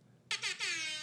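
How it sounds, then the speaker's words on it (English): Brief air horn sound effect: a loud, bright honk that stutters in two quick pulses and then holds for a sustained blast, alone without talk. "they got the air horn again"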